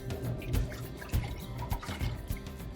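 Beef bone broth, about two cups, pours into a saucepan with an uneven liquid splashing and gurgling that swells and eases, close by and fairly quiet, with no talk.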